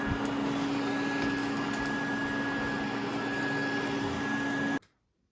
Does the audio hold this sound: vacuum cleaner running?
yes